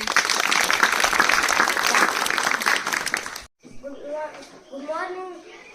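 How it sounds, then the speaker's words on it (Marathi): A school audience at a Zilla Parishad primary school in Kasarwadi applauds loudly for a schoolgirl, with steady dense clapping that cuts off abruptly, followed by someone speaking. "टाळ्या वाजवा"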